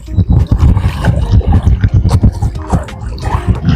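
Strong gusting wind buffets the microphone beside a lake, a loud, continuous low rumble that swells and drops in uneven surges with no clear pauses.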